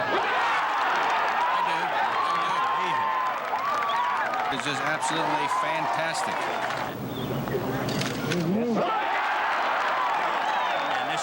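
Golf gallery at the 18th hole of a PGA event at Atlanta Country Club applauding and cheering, a steady wash of clapping and crowd noise under continuous commentator talk.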